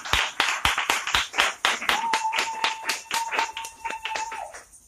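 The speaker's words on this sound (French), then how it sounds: "On peut encore acclamer le Seigneur." A church congregation claps together to acclaim the Lord, a brisk, steady rhythm of close hand claps with a sustained tone ringing underneath partway through, and no speech.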